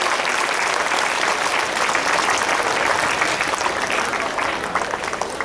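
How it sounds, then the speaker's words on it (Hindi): An audience at an Indian public school program claps for the children, with dense, sustained applause from many hands that stays loud throughout. "ताली बजाकर बच्चों का हौसला अफजाई करें"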